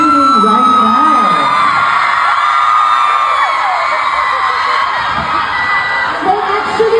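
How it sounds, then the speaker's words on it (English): Crowd of fans at a Thai GL fan event screaming and cheering, a loud, sustained high-pitched shrieking that fills the whole stretch with a voice mixed in. "I actually didn't expect like there will be a lot of people screaming right now."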